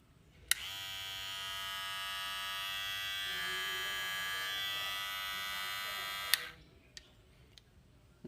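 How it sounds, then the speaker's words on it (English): An all-metal Kemei KM-1997 professional hair clipper is switched on with a click and buzzes steadily and close for about six seconds, then clicks off. "Let's try to put the clipper to see whether it works or not"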